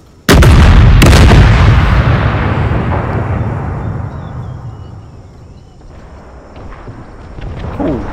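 Artillery fires in a Total War: Empire mod battle: a sharp, loud cannon blast and a second shot about a second later, then a long rumbling decay with faint distant battlefield noise.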